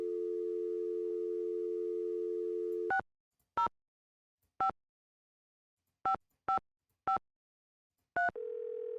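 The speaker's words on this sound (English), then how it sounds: "let me call that phone number." In the Nancy Drew: Secret of the Scarlet Hand video game, a telephone dial tone gives way to a series of crisp touch-tone dialing beeps with uneven gaps, then a steady lower tone as the call connects, loud and clean.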